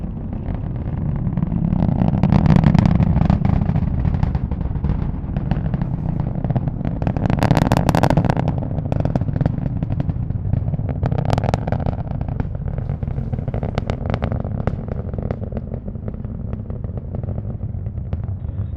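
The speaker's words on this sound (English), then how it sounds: "Let's listen to the roar of those 9 Merlin engines, now 30 seconds into flight." A SpaceX Falcon 9 rocket's nine Merlin engines thunder about 30 seconds into flight, a continuous distant crackling roar that swells and fades over many seconds with sharp popping bursts throughout.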